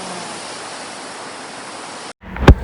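Water rushes beside a temple in Mangalore as a steady, loud, broadband wash for about two seconds, then cuts off abruptly and is followed by a short rising tone.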